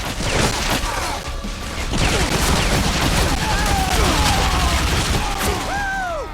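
Dense, continuous gunfire and explosive bursts in the video game Bulletstorm, loud and chaotic for several seconds with mechanical clatter and shouting voices mixed in.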